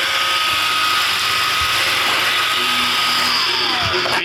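An iRobot Roomba 550 robot vacuum runs in a steady, close whirring hum with faint brushing and clicking under it, and no talking.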